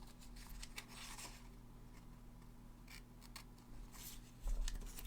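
Scissors snip out paper shapes in quiet, close, irregular clicks and crisp cuts, faint over a low steady hum, with no voices.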